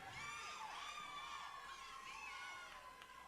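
At the Tucson All Souls Procession, a crowd cheers and whoops for competing contestants, with many voices blending into a steady, somewhat distant roar throughout.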